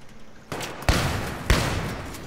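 Shots ring out in the video game Battlefield 3: three sharp, loud reports a fraction of a second apart, each trailing off into a noisy wash.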